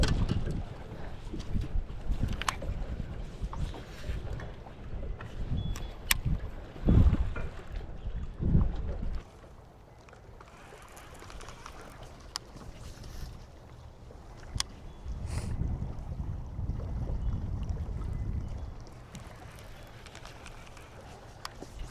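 Wind gusts and small waves lap against a fishing boat on a clear lake, a steady broadband rush with louder surges and occasional knocks, fading quieter midway before swelling again.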